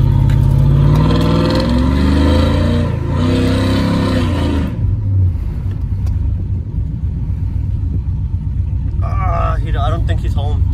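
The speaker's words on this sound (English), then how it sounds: "I'm gonna rev in front of his house" A cammed 5.3 V8 fitted with a new exhaust rumbles loudly and steadily throughout, with a voice talking over the first half and brief higher revving near the end.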